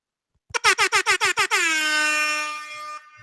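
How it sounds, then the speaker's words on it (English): An air horn blasts in a rapid stutter of seven short bursts, then holds one long, loud blaring tone before cutting off. "They get the air horn for that."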